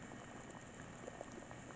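Water with beets boils in a pot on the stove, a soft continuous bubbling with scattered small pops and gurgles, quiet and close with no talking.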